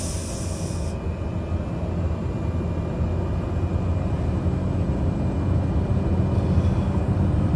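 A light aircraft's engine runs at full takeoff power in a gusty crosswind, a steady loud droning roar that holds constant throughout.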